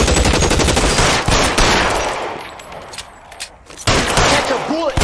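Shootout in the video game L.A. Noire: rapid bursts of loud automatic gunfire, a brief lull, then more sharp shots, with a voice talking amid the firing.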